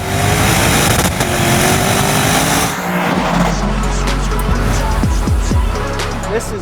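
Lexus IS 500 Ultimate Edition luxury sedan with a naturally aspirated V8, a loud roaring engine note that surges and then shifts into rising revs, close up with no talk over it.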